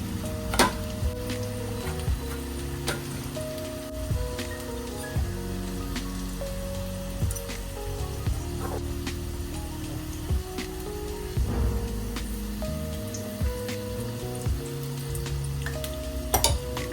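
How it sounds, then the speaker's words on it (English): Mirchi pakoda, chili fritters, frying in hot oil, a steady crackling sizzle with scattered pops and occasional utensil clinks, close and continuous without voices. "So, here I am cooking some mirchi pakoda for us, which actually turned out to be really yummy."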